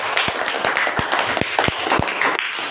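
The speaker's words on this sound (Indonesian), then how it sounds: "beri tepuk tangan." A small group claps together with sharp, scattered hand claps of uneven rhythm, fairly close and lively, with no talking.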